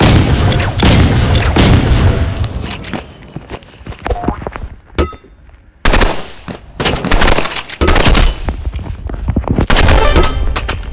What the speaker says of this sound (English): Next, we'll be using burst rifle, which hopefully is a lot better.